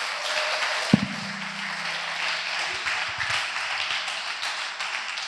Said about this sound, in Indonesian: Tepuk tangan buat Al-Akh Yunus.